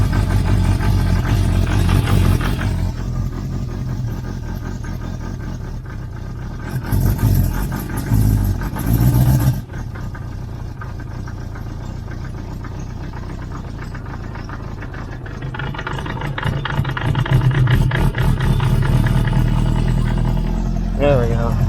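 A 1973 Honda CB350 Four engine idles while warming up, a loud, rough low rumble that runs throughout, swelling briefly in the middle and again near the end, with a person talking over it.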